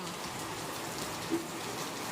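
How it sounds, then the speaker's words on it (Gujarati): Heavy rain falls in a steady, soft, even hiss that stays constant and fairly faint throughout, with no voices. "વરસાદ બહુ ચાલી રહ્યો છે."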